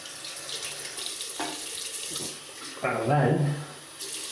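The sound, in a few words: water tap running to rinse a razor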